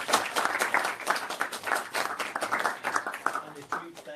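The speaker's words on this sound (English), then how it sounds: "One is a round of applause to all of the speakers." A conference audience applauds the speakers after a panel discussion on an Africa–EU partnership, a dense patter of many hands clapping steadily for several seconds at moderate volume.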